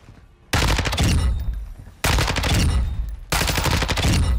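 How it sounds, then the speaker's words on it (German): The Lachmann 556 rifle fires at a shooting range in the video game Warzone, in three loud, sustained bursts of rapid automatic gunfire separated by short pauses. "ich zeige euch die Lachmann 556 jetzt einmal im Schießstand"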